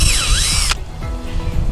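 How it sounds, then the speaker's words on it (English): A power drill boring a tap hole into a maple tree, with a short loud whining burst that rises and falls, then stops abruptly, leaving a low rumble. "So to start off, you got to drill your hole."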